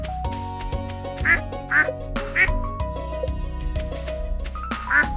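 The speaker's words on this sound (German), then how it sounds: "Eine von unseren Enten säckelt einfach immer noch da unten umeinander." A duck quacks several times in the farming video game Stardew Valley, bright repeated quacks over a steady, tinkly musical background with chiming notes.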